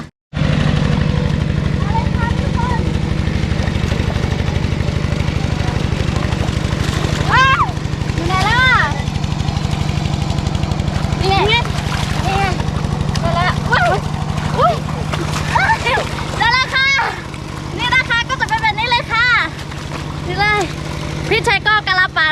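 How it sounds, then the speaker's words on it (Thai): Engine of a machine plowing a wet rice paddy in a hill-country field, a steady low chugging drone throughout, with someone talking intermittently over it. "ตอนนี้พี่ชัยก็กำลังไถนา"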